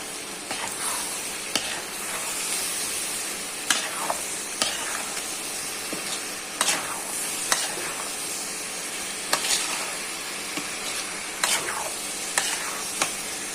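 Spices frying in oil after blanched vegetable stalks are added, a steady sizzle and hiss with a spoon stirring and tapping the pan at intervals, close and continuous.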